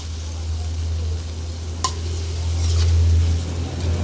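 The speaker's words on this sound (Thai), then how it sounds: "นี่จ้าเราก็ทำเอาปลาลงไปนะคะ ก็ผัดคลุกเคล้าให้เข้ากัน" Fried fish is stirred into a curry in a pan, giving a steady bubbling sizzle with soft scraping and one brief clink of a utensil. The sound stays close and even throughout.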